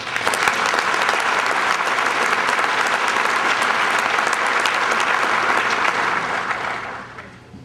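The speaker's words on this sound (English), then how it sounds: "Please join me in a round of applause for Major Berghaus" Audience applause at an Army Captains Career Course graduation ceremony, a dense, loud, sustained round of clapping that holds steady for about six seconds before tapering off.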